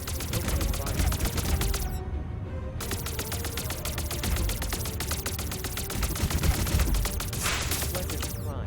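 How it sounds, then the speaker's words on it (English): Rapid sustained gunfire in the space combat game Underspace, a dense, loud mechanical rattle that barely pauses, with a voice speaking over it. "Opening fire."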